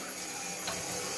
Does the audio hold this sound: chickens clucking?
no